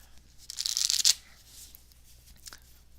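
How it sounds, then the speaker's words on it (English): A deck of playing cards being shuffled at a magic livestream, a quick close riffle of crisp flapping that builds for about half a second, ending in a sharp snap, followed by faint handling clicks. "Okay, so we'll shuffle first."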